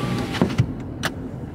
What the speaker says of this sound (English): Let me roll my windows up.